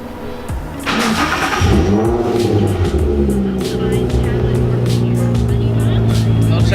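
A Nissan 350Z/G35, just fitted with a new camshaft position sensor, cranks and fires up loudly nearby, then settles into a steady idle with some revving while people talk over it.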